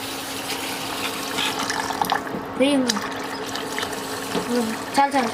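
Water runs and splashes steadily from a tap or pour, with voices chattering faintly in the background.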